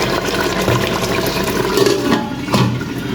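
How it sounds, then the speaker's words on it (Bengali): Water poured into a pot of chicken roast cooking after the spices are fried, a steady close splashing and gurgling pour with no talk. "রোস্টের মধ্যে কষিয়ে তারপরে আমি একটু হালকা পানি দিয়ে দিয়েছি"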